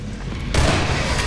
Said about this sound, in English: a full shotgun blast doesn't actually take him out